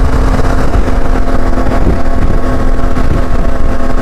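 Loud, steady roar of a CFMOTO Ibex 450 motorcycle on the move with a lowered windshield, side wind buffeting the helmet as a constant rushing noise over a low engine drone, no pauses throughout.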